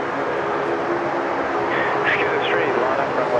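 Qantas airliner starting its takeoff roll on runway 34 left at Sydney Airport, a steady broadband engine roar heard from a distance with a voice talking over it throughout.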